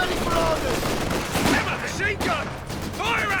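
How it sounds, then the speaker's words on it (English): A Vickers machine gun in the Company of Heroes 2 strategy game rattles off bursts amid other battle noise, layered under a commentator's continuous voice. "Vickers is setting up and suppressing his squads"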